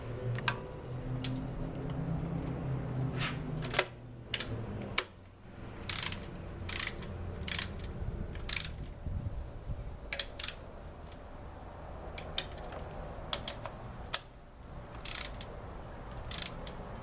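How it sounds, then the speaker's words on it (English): A torque wrench clicks sharply and repeatedly while tightening valve cover bolts on a 2003 Hyundai, with single and double clicks spaced unevenly over a low background hum and no talking. "And you can hear the torque wrench click."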